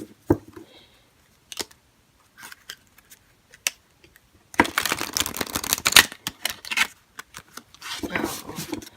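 Tarot cards riffle-shuffled and bridged by hand, starting with brief scattered snaps and flicks, then turning into a dense, crisp riffling burst near the middle and a second flurry toward the end, close to the listener with no voices.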